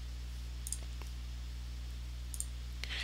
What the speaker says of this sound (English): Just click this button